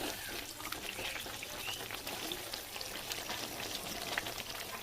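Ground cumin, chili powder, meat masala and biryani masala sauté in a pan, making a moderate steady sizzle with soft scraping and crackle throughout, with no talking.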